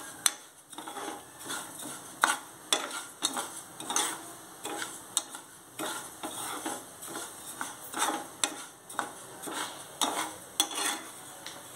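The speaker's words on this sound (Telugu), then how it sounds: "ఆ స్మెల్ వచ్చేంత వరకు మంచిగా దీన్ని లైట్గా దోరగా వేయించండి." Wheat rava dry-roasting in a pan for bottle gourd idli, with a quiet, even run of spatula scrapes and light clinks against the metal at a steady stirring rhythm.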